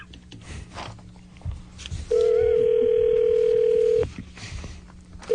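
A telephone dial tone on an open radio call-in line, a steady loud tone lasting about two seconds, starting abruptly amid faint background noise and studio chatter, then cutting off, with a brief return at the end.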